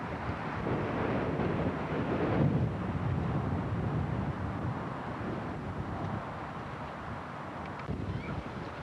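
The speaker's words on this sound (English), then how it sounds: "In fact, it's a little windy." Steady wind rushing and buffeting against a microphone outdoors in Alaska, with a low rumbling roar that never lets up.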